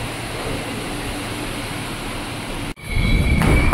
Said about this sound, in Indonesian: Akhirnya KRL datang, kita baru bisa naik